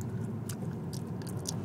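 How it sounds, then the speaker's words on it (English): Someone chews food close to the microphone, with soft wet smacking and a few crisp bites in an uneven rhythm over a low background hum. "I'm chewing like a cow."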